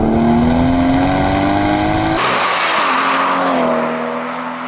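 Toyota Supra with a 2JZ engine revving hard on the move, a loud close engine note climbing steadily, then a sharp gear change and the pitch dropping before it climbs again.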